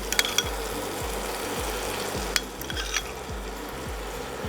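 Beaten yogurt is stirred into chicken rezala over low heat, a constant gentle sizzle with regular low scraping strokes of a spoon and a few sharp clicks against the pan.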